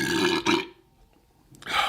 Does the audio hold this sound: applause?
no